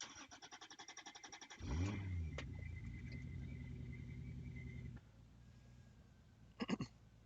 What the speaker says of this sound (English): Okay, let's start the car.